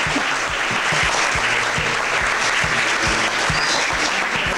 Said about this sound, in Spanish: Bueno, primero un aplauso para ellos, por favor.